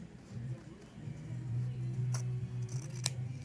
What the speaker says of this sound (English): I'm just going to take and trim with the fabric scissors this time out, not the pinking shears